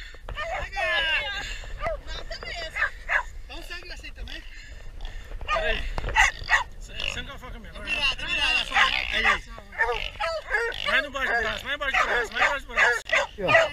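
Hunting dogs bark and yip repeatedly during a wild boar hunt outdoors, with bursts of barking scattered through the stretch while people talk loudly over and between them.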